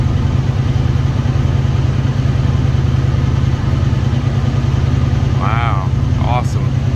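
A 2020 Honda Talon engine runs loud and steady on a dyno, a constant throbbing drone up close, with brief voices near the end.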